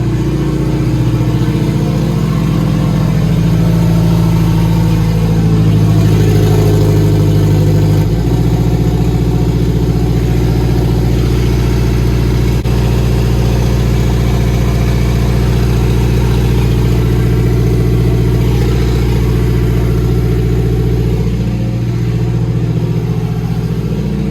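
A turbocharged K-swapped 1998 Acura CL engine idles steadily for the whole stretch, a low continuous rumble with a slight shift in tone partway through, close by.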